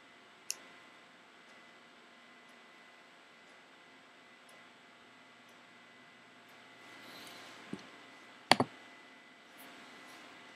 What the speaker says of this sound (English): Then you click on open